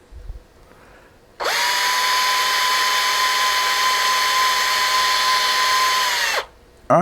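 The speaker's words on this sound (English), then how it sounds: "we're going to pull out about 1 meter with the wire. And we got the other end in a drill." A power drill with a wire end clamped in its chuck whirs loudly for about five seconds, twisting two wires into a twisted pair, starting and stopping abruptly with a steady high whine.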